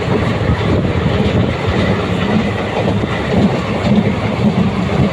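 Puducherry weekly express train running at speed, with a loud continuous rumble and wheel roar close by and faint rhythmic clatter from the tracks.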